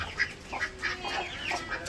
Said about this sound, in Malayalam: ഈ കോഴി ഇതൊക്കെ നാടൻ കോഴിയാട്ടോ.